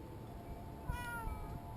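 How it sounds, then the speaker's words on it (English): A house cat gives one clear, drawn-out meow nearby, alone over a quiet background hum. "there is Kitty Girl"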